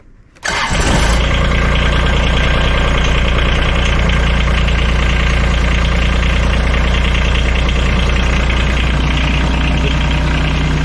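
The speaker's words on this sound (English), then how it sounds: "let's start her and run her for a wee bit and then double check everything" A garden tractor engine cranks and catches within the first second, then settles into a loud, steady idle with a slightly knocking mechanical rhythm that holds close and unbroken to the end.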